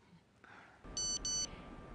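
A mobile phone gives a message alert: two short, bright electronic beeps in quick succession, clear and close against a quiet room.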